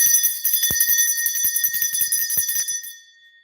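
A bell chimed to open a tarot reading rings out in a run of bright, sustained tones with light repeated strikes, clear and close, fading to a lingering ring near the end.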